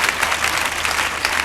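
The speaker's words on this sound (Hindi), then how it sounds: "आए भरपूर तालियों में हम खुदा बाप का शुक्र अदा करते हैं।" Catholic church congregation at a coronation ceremony of Mother Mary in Lahore applauding in thanks to God, a dense, steady wash of many hands clapping, loud and continuous.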